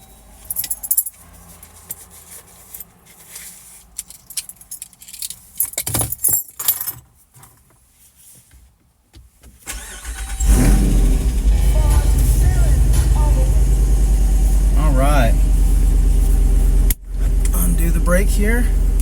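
Keys jangle and handle noises come first, then a Jeep Wrangler Rubicon 392's V8 starts with a loud roar and settles into a steady, deep idle close by, with a brief interruption near the end.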